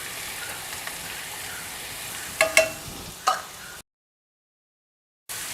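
Large onions hitting hot coconut oil in a pan for bitter gourd chutney, giving a steady sizzle with a few sharp stirring clicks, then a short silent gap before the frying resumes.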